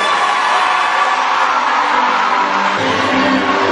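Crowd at a live show with a DJ and performers, cheering and applauding loudly in a continuous dense roar with whoops and yells throughout.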